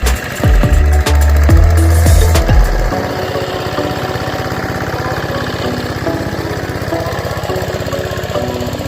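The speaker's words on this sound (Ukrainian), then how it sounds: "Мотоблок на 8 кінських сил, а як дубить" A Kentavr 160V 8-horsepower motor tractor engine runs steadily while pulling a loaded horse cart, loud and close, with a few heavier knocking thumps early on before settling into an even chugging drone.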